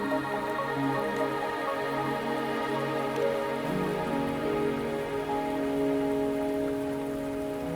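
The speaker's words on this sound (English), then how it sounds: "Are you trapped here by the rain?" Steady rain falls in the video game Wuthering Waves, a dense, constant patter of drops under soft sustained music, with no speech.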